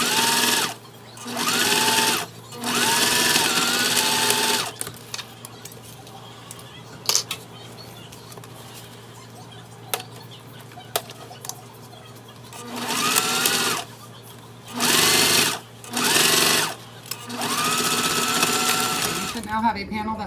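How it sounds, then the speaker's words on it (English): A sewing machine top-stitching a wristlet panel runs in several separate whirring bursts of a few seconds each, close and loud, with quieter pauses between the runs. "It will top stitch and hold the pocket into place a second time."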